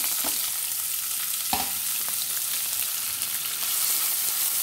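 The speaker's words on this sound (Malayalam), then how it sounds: "കറിവേപ്പില, ഇനി നമ്മൾ അരിഞ്ഞു വെച്ചിരിക്കുന്ന വെളുത്തുള്ളി, പച്ചമുളക്, ഇഞ്ചി, സവോള ഇതെല്ലാം കൂടെ നമുക്ക് ചേർത്ത് കൊടുക്കാം." Chopped garlic, green chili, ginger and onion sauté in oil tempered with curry leaves for an ash gourd pachadi, a dense continuous hiss of frying with a couple of brief stirring knocks, close and loud without speech.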